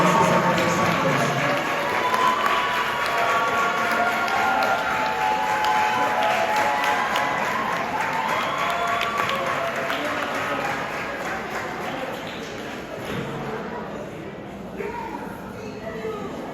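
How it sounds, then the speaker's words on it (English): A banquet audience at a school sports awards event claps in a long, steady round of applause, fairly loud and full, gradually thinning toward the end with voices mixed in. "Please give her a big round of applause"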